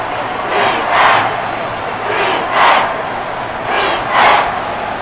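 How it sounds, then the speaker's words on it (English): The Arrowhead Stadium crowd roars in Madden 24 during a Chiefs versus Eagles game, a loud chant that swells and fades in rhythmic waves about every one and a half seconds. "The Arrowhead crowd in full roar."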